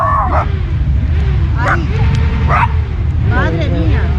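Several dogs bark and yip in short bursts at a busy Motauros 2023 motorcycle rally, the barks sounding close over constant crowd chatter and people talking.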